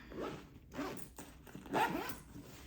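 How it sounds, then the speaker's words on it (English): A zipper pulled shut on a packed LUG Mini Ranger bag, heard as three quiet scratchy bursts of zipping close by, each less than a second long, with brief pauses between them. "let's see if it can zip"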